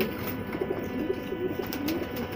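Small female pigeon cooing up close, a few soft, rolling coos repeated over a light background hiss.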